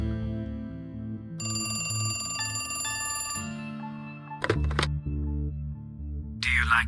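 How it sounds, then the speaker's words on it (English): Telephone ringing in the video game Shadow Plays: The Cat Lady, a tonal electronic ring over a low game soundscape with musical tones, followed by a few clunky thuds and a brief bright burst near the end. "I really want to answer that phone first."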